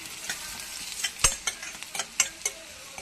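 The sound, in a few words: frying crushed garlic in pan for vendakkai porial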